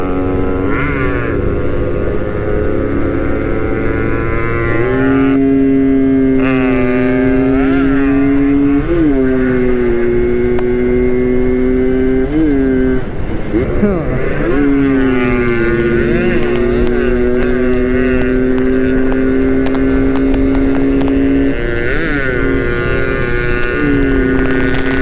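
A two-stroke Yamaha RX135 motorcycle on a road ride holds a loud, continuous engine drone close by throughout, its pitch rising and dipping with throttle and gear changes, with no talk over it.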